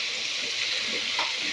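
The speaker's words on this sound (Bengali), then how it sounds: "দেখো আমি এখন আলু আর পোস্তটাকে ভাজছি।" Potatoes and poppy seeds fry in a pan with a continuous close hiss and sizzle that stays steady throughout.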